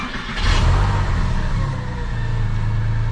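Porsche 996 911 engine cranking and catching on a cold day, a loud burst of starter and revving that settles into a steady, rumbling high idle close to the microphone.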